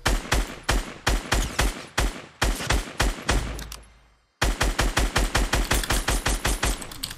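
Rapid bursts of gunfire ring out in a Fortnite match, loud repeated volleys of close shots with a brief pause midway before another fast string of shots.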